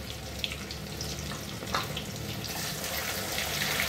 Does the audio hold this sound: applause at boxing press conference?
no